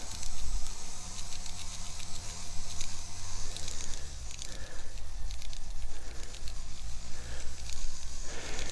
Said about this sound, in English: When it's raining again